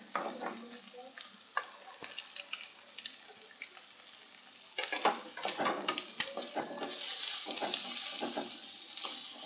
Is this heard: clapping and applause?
no